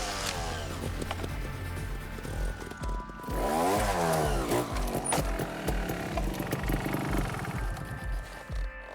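A 300cc two-stroke trials motorcycle engine blips and revs close by, with sharp bursts and one sweeping rise and fall of pitch near the middle, busy and loud throughout.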